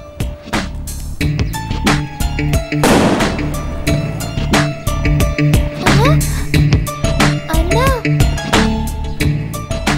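A string of firecrackers goes off in a rapid crackling burst of sharp pops, loud and close. Scattered bangs and voices surround it.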